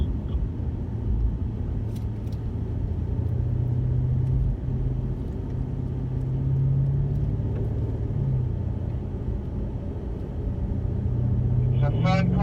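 A BMW M5 Competition drives on a track with a steady low engine rumble and shifting drone, while someone talks over it and a brief rev rises at the end.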